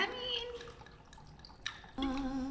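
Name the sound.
pouring chilled fruit wine into a glass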